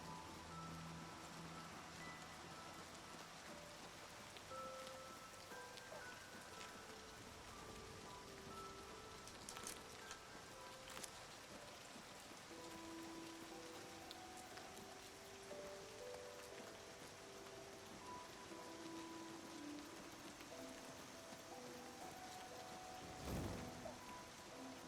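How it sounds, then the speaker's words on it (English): Steady, faint rainfall hisses continuously in the background throughout, with soft tonal notes drifting over it, a brief thump near the end, and no talking. "Sound of the rain in the background"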